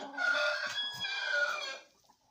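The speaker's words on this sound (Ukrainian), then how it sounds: "Ось я вже в курей. Вони майже всі в курнику." Chickens in their coop produce one loud, drawn-out call lasting about two seconds, close by, then quiet.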